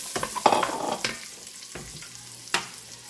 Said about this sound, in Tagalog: Gisa-gisa tayo.